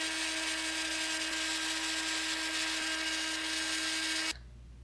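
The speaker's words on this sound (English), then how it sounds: "Back to the drill" A small drill runs steadily while repairing Nintendo 64 cartridge contacts, giving a continuous high whine with a constant pitch, close and loud, then cuts off abruptly near the end.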